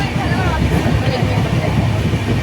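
Low rumble and rhythmic rattling inside a moving passenger train carriage, steady and close, with people talking over it.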